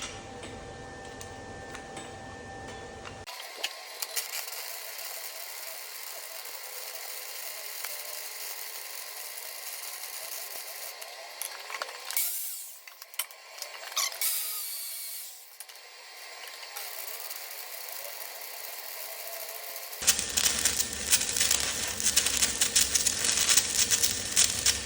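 Stick welding a root pass with a 1/8-inch 7018 rod on 1-inch beveled plate with a YesWelder CT2050, a steady close crackling hiss that runs for most of the clip, briefly dips midway, then gives way to broadband noise.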